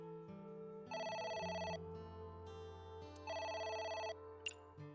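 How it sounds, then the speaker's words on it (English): Phone ringing in the visual novel game AI: The Somnium Files, two distinct bursts of a trilling electronic ring over soft background music, fairly quiet and close. "It's the phone. Maybe try picking it up?"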